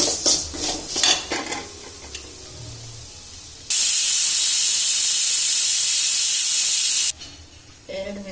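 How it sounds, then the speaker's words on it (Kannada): A loud, steady pressure cooker whistle hisses for about three and a half seconds, preceded and followed by clattering kitchen sounds. "ವಿಸಿಲ್ ಆಯಿತು ಕುಕ್ಕರ್ ಆಫ್ ಮಾಡಿದ್ದೀನಿ"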